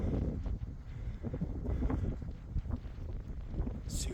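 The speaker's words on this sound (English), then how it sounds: "the wind's starting to take the camera" Gusty wind buffeting a handheld phone microphone on an exposed moorland edge walk, a loud, rough, uneven rumble throughout.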